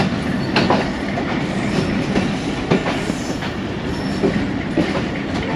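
Pakistani railway locomotive number 8319 on shunting duty, running on rails near the Jaffar Express line: a steady rolling rumble with faint clickety-clack wheel beats and occasional light squeals, continuous and fairly close.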